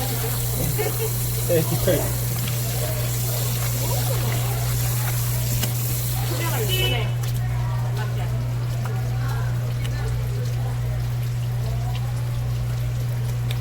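A large bigfin reef squid rinsed under running water, a steady pouring gush that stops partway through, with a persistent low hum and people talking nearby.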